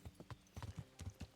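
A horse's hooves clip-clopping in the medieval video game Kingdom Come: Deliverance, a quiet, even walking rhythm of soft thuds with no talking over it.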